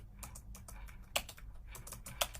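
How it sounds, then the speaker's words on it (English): Fingers tap on a computer keyboard in quick irregular bursts of soft clicks, with a couple of sharper keystrokes standing out, fairly faint and close. "It's a problem with typing and talking at the same time."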